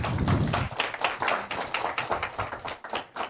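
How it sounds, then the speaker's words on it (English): A small crowd claps in a steady round of applause, dense and continuous for a few seconds. "I think you deserve a round of applause for this"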